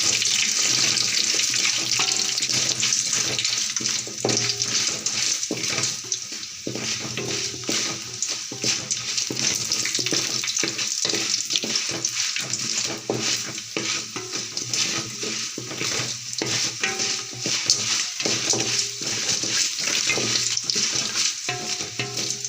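Curry leaves frying with mustard seeds, garlic and red chillies in hot oil for a South Indian eggplant thuvayal, making a loud, continuous close sizzle with crackles and stirring scrapes throughout.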